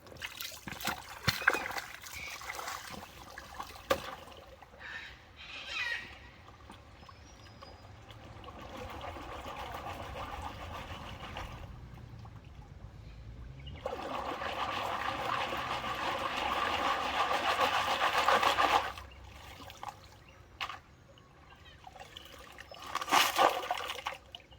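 Water sloshing and splashing as a gold pan is worked in a clear, deeper stretch of Anderson Creek at Warrandyte, with bursts of louder swirling and trickling between quieter stretches, close by and with no talk.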